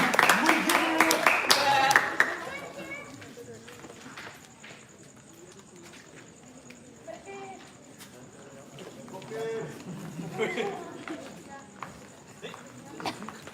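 An audience at an evening stage show claps for a singer. A dense burst of applause fills the first couple of seconds, then fades beneath a presenter's voice and scattered sounds.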